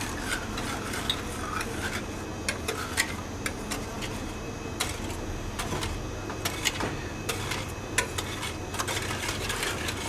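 Whisking egg yolks with vanilla in a bowl for crème brûlée gives a steady, close scraping and stirring, with repeated light clinks and ticks of the whisk against the bowl running all the way through.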